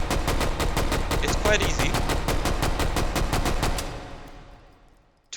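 A Grease Gun submachine gun fires in the VR shooting game H3VR: a steady, loud, fully automatic string of evenly spaced shots at a slow cyclic rate, with brief speech underneath, then a fading echo and a final click.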